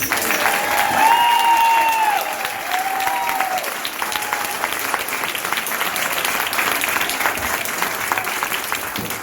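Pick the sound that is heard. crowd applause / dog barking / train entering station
crowd applause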